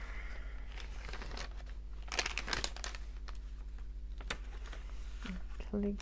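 Crepe paper page in a handmade junk journal being handled and flipped, producing soft crinkles and sharper rustling snaps close up, scattered irregularly with a quiet voice talking in between.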